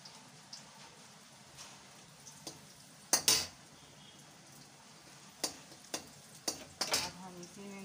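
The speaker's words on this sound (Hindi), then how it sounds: "दोस्तों ये देखिए हमारा ऑयल जो है तो गर्म हो चुका है। अब हम इसमें डालेंगे लहसुन, इसको पका लेंगे अच्छे से।" Garlic hits hot oil in a home kitchen pan for a ridge gourd peel bhujia, sizzling at a low steady level while a spoon stirs and scrapes in several sharp bursts.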